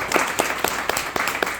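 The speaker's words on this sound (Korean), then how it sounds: "또 한번 박수 칩시다" Congregation applauding at a Korean church service marking the March 1st Movement, a dense patter of claps with several sharper bursts across a short stretch, fairly close and steady.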